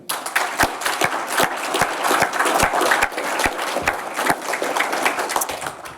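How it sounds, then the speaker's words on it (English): Audience at an annual members' meeting breaks into sustained applause, a dense crowd of claps with a few sharp individual hand slaps standing out, steady and fairly loud throughout with no talking. "let's give them a round of applause."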